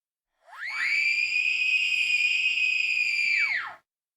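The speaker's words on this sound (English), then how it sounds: "I don't know how loud this scream is going to be" A scream sound effect played through a Foundry VTT game session, coming out as a steady, piercing, kettle-like whistle that holds at one pitch for about three seconds and then cuts off, with no talk over it.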